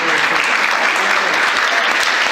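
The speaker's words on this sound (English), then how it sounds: "round of applause" A large audience breaks into sustained applause at a political event, a dense, steady wash of clapping that holds loud and even throughout with no voices standing out.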